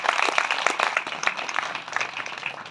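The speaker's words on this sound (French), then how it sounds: "Je crois qu'on peut applaudir Monseigneur aujourd'hui." An audience applauds after a question-and-answer session with a bishop at Espace Richelieu, a dense, steady patter of many hands clapping close by for a few seconds without any talk.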